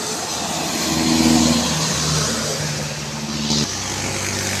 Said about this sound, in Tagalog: Yutong bus.